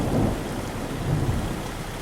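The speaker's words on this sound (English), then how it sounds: "That thunder and lightning sounds so realistic, it's unbelievable." Rain pours steadily with a deep rolling rumble of thunder in American Truck Simulator, a continuous low storm wash with no voices.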